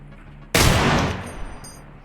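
A single sharp gunshot in a first-person video game cracks loud and close, then decays through a fading echo tail, with no other shots following.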